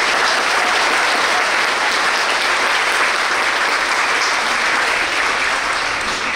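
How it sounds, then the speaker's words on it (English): A hall audience at an evening scholarship award celebration gives a loud, steady round of applause for an assistant principal, with dense, continuous clapping from many hands that stays full throughout. "a round of applause"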